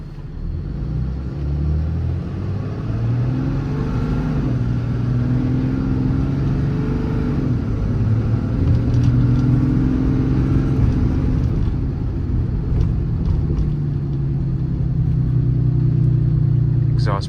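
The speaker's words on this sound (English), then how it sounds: "Exhaust brake works well" A 2015 Ram 5500 service truck with a Cummins diesel runs with its factory exhaust brake on, a deep, steady engine rumble rising and falling with low droning tones, loud and close, while someone talks over it.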